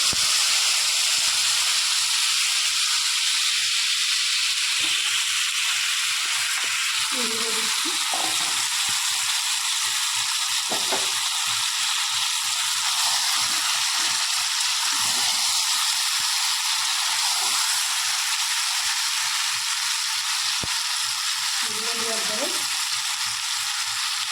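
Whole cumin seeds fry in oil in a pan for a home-style river bele fish curry, giving a constant bright sizzle and hiss with occasional soft stirring knocks throughout.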